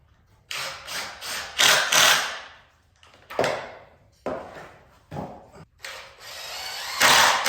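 A drill drives 1 1/4 inch Kreg pocket-hole screws into wood, several short bursts of high whirring and grinding separated by pauses, close and fairly loud.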